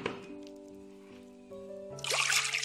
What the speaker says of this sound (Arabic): منضيف 2 كوباية المي